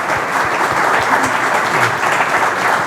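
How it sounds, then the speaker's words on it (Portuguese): Audience at a political lecture applauding a guest, steady dense clapping from many hands, loud and close, continuous throughout without talk. "Uma salva de palmas para ele."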